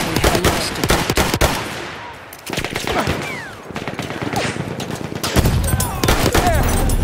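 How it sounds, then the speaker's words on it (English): An enemy machine gun fires in Battlefield 1 during a hardcore Conquest match in the Argonne Forest, loud rapid bursts of gunfire that keep going, mixed with other shots, whizzing sounds and battlefield noise. "There! Enemy machine gun!"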